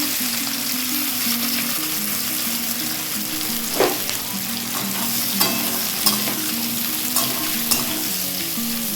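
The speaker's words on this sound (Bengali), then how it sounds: "এইবার এতে পেঁয়াজগুলো ঢেলে দেবো। পেঁয়াজগুলো ভেজে নেব ভালো করে।" Onions fry in mustard oil in a wok with a continuous close sizzle, punctuated every second or so by the scrape and clatter of a spatula stirring them.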